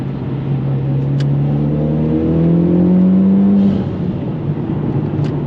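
Turbocharged Mitsubishi Evo X engine revving up with rising pitch, then easing off as the car slows, heard close and loud from inside, with a faint turbo whoosh and brief clicks.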